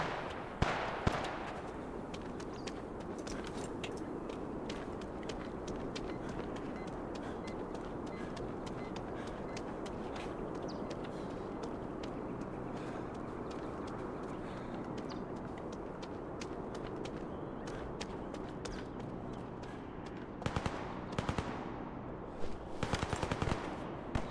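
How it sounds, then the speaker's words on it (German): Sustained machine-gun fire in The Day Before, a dense continuous rattle of rapid shots at moderate distance, with sharper, louder bursts near the end. "Irgendwie kommen die Schüsse näher."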